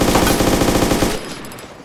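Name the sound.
gunfire in video game DayZ mod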